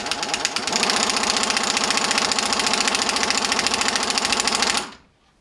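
A bench-spun alternator with a bulb attached whirs up to a steady, loud mechanical hum with rapid ticking, holding for nearly five seconds before cutting off abruptly into silence.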